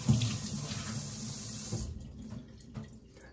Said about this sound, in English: I'm going to rinse my face in the kitchen sink